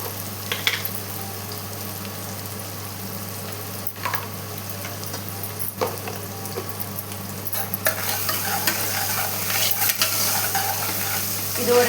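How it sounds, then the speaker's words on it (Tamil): Onions sautéing with a pinch of salt in a pan for a Chettinad-style mutton gravy, a steady close sizzle with occasional spoon scrapes and stirring clinks throughout. "இதை சேர்த்து நல்லா வதக்கி விட்டுக்கலாம்."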